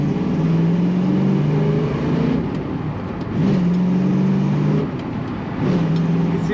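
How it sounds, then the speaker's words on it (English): A 1974 Pontiac Trans Am with a four-speed manual transmission and cowl induction drives along, its engine rising and falling through gear changes with a loud, close rumble and brief dips between pulls, no talking. "Today we're driving a 1974 Pontiac Trans Am"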